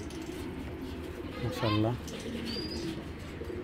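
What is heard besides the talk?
military breed pigeons cooing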